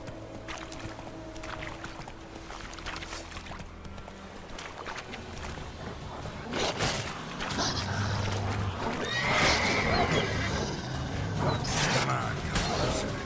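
Horse from The Witcher 3 game setting off at a gallop with clip-clop hooves and a whinny, growing louder in the second half amid game ambience and occasional talk.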